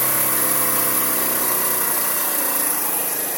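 A motorbike engine idles steadily once the choke is opened, a constant buzzing drone held at even loudness throughout with no break or rev change.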